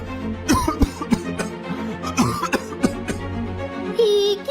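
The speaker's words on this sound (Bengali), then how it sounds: "আপনি কাশছেন কেন?" A man coughs several times in short harsh bursts close up, with faint background tones and a brief higher sound near the end.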